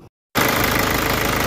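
A diesel engine fires up after its injection pump overhaul and settles into a loud, steady idle with a rough, knocking rumble, following a brief moment of silence at the start.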